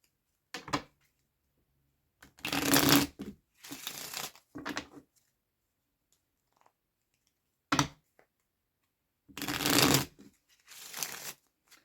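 Cards are shuffled in several quick riffling bursts with pauses between, close and fairly quiet, no talking.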